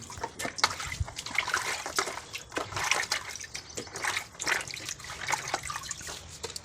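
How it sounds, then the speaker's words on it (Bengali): Tap water runs and splashes steadily as large cut pieces of magur catfish are rinsed, a close, continuous trickle and slosh with irregular splatters throughout, no voices. "মাছগুলো এবার ধুয়ে নেবো।"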